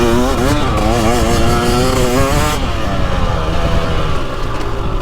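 A 2023 Husqvarna TX300 Heritage Edition two-stroke dirt bike revs hard up and down, then settles into a steady loud drone, close and continuous with no talk.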